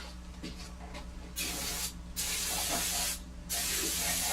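Aerosol brake cleaner sprays in an engine bay in three loud, steady hissing bursts, each a second or so long, separated by short pauses, close up and with no talking.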